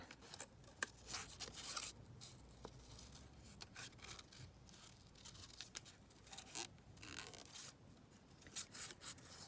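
Scissors snip and trim paper for a junk journal pocket, making a close, quiet run of crisp cuts and papery rubbing with short pauses.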